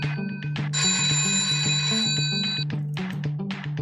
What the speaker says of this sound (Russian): У меня зазвонил телефон.